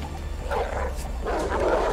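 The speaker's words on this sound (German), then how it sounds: "Ich höre jetzt irgendwie von links noch Hunde, das macht mir Angst." Dogs bark in the Oddworld Soulstorm video game, a few rough barks in quick succession at moderate distance, heard over a low background rumble with no speech.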